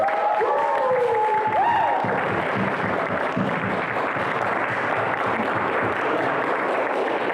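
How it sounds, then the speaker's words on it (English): Audience applause breaks out for the winner of a university poetry contest, a steady dense wash of clapping with a few cheers that runs the whole stretch, after a brief sustained tone at the start. "give everyone a round of applause again"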